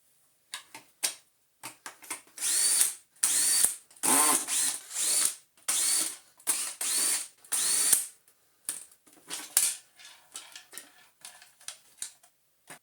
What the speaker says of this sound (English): that involves removing pretty much a heck of a lot of screws